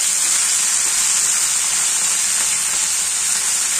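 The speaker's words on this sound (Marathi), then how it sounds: "फोडणी तयार झाली, तर आपण आता आपली भाजी टाकून घेऊया" Fenugreek leaves hit a hot tempering in a kadai for a methi and moong dal dish, giving a loud, steady sizzle and hiss that holds without a break, with no talking.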